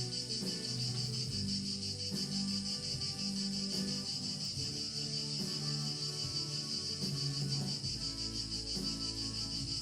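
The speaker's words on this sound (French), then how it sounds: "bercé par le chant des criquets, les cigales n'étant pas de reste, la symphonie de l'été" Crickets chirp steadily in a dense summer chorus alongside cicadas in dry grass in Provence, a continuous high-pitched shimmer throughout with quiet music or tones underneath.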